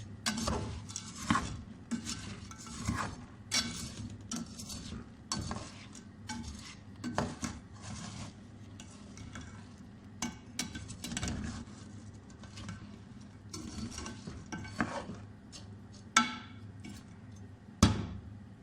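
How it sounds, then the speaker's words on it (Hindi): A spoon stirs and mixes ingredients for shahi pondi in a metal vessel, making intermittent scraping and clinking knocks in an uneven rhythm, close and moderately loud, with no talking. "अब इसको इस तरह चस में मिला लेते हैं, मिक्स कर लेंगे।"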